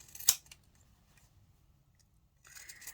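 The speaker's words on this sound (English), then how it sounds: "just using your pinking shears, snip off any excess without going into your stitching" Pinking shears snipping off excess fabric around stitched curves: one crisp, close cut followed by faint handling and a softer rustle near the end, no voices.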